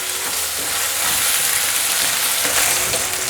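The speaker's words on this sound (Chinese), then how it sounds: "面肠有点微焦了，可是杏鲍菇还没有，再继续炒" King oyster mushrooms and gluten sausage stir-frying in a pan, a loud continuous sizzle and crackle with scraping as the pieces are tossed, no voices.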